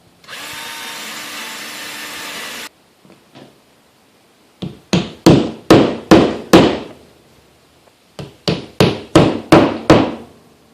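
A drill runs for a couple of seconds, then quick anchors for a garage door bracket are hammered in with two loud, rapid bursts of about half a dozen sharp close blows each, separated by a short pause.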